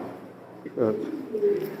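A racing pigeon gives a soft, low cooing call close by, with a voice talking in the background.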